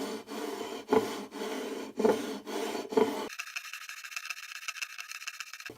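A sanding beam rasps along the frets of a Sigma acoustic guitar neck in three firm back-and-forth strokes, followed by lighter, quieter scraping, heard close up with no talk.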